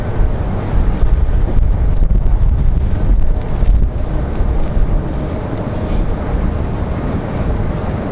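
Strong, steady wind buffets the microphone outdoors at an airport ramp during a windy day, a loud continuous low rumble with gusty surges, boat-like roar and no talking.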